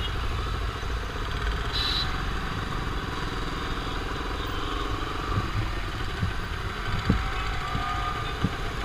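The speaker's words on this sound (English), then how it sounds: "300cc and it sounds like an inline 4." A Benelli TNT 300 motorcycle with its stock exhaust idles steadily nearby, a smooth continuous engine drone with slight mechanical clatter and a couple of small revs near the end, no talking.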